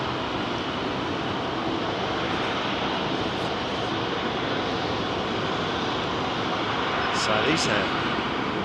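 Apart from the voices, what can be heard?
GE-engined airliner departing Heathrow runway 27R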